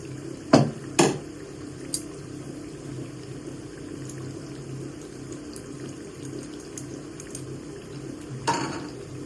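Parippu vada, crisp lentil fritters, fry in hot oil with a low, steady sizzle, punctuated by a few sharp clinks of a utensil near the start and again near the end.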